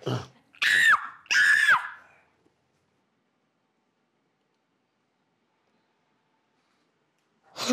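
Two loud, piercing screeches from a person with a vocal tic burst out in quick succession at the start, followed by long silence and a brief voice at the very end.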